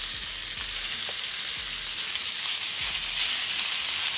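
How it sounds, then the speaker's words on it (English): Beef sears in olive oil in a cast iron pan with a loud, close, unbroken sizzle, punctuated by a few faint low thumps. "Next, you're gonna add your beef and you're gonna sear for a good 3 to 4 minutes"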